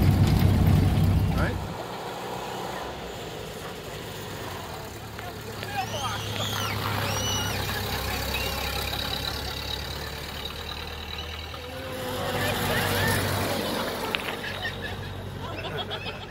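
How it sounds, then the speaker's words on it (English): A 1930 Ford Model A engine idles roughly after sitting for decades, a steady low rumble with uneven beats that runs throughout, while voices talk over it. "It runs. It's okay. A little rough"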